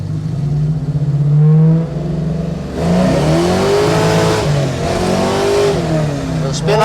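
A 1970 Chevy Camaro Z28 with a high-performance engine revs hard and climbs in pitch through several surges while its wheels spin, loud and close, with a rising whine over the engine roar.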